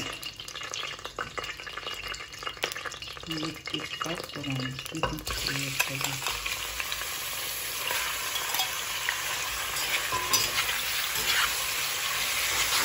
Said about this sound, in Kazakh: етімізді қуырамыз.